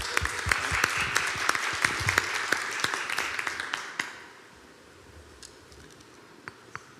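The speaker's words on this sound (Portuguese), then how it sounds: "uma salva de palmas para ela" Audience applause at a business event: a brisk, fairly close burst of many hands clapping that fades out after about four seconds, leaving quiet room tone with a few stray claps.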